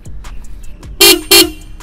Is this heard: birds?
no